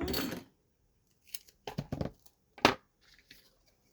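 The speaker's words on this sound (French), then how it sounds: "Les ciseaux, ils sont là." A few sharp snipping sounds of scissors cutting paper, in short separate bursts with quiet gaps between them.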